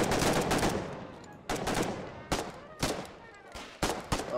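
Covering gunfire in the trench warfare video game Foxhole: several sharp, loud shots with echoing decay, a long burst followed by separate cracks at irregular intervals, with faint voices in the background.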